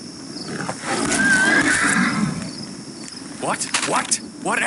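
A horse in the Half-Life mod Half-Rats Parasomnia gives a loud, close whinny that rises and trembles for about a second, with crickets chirping around it and a few hoof clops and shuffles afterward.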